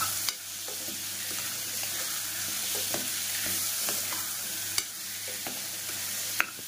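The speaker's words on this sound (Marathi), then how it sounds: "चवीनुसार मीठ, याला आपण मिक्स करून घेऊया" Salt is stirred into soaked dried peas and potato in a pressure cooker pot, with a spoon scraping and clinking now and then over a steady soft sizzle; no one speaks.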